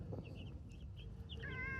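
Chickens in a backyard run give soft, faint clucks and short chirps close by, scattered over a low, steady background murmur.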